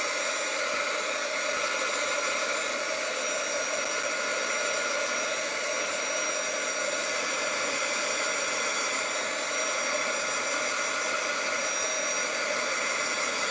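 A heat tool drying a stamped crafting project, a steady, loud, continuous blowing hiss that stays even and unbroken throughout with no voices over it.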